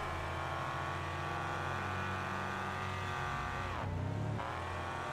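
A Trans-Am race car in the Wreckfest video game drones steadily as it passes, with a loud sustained engine whine that dips and shifts near the end, alone without talk.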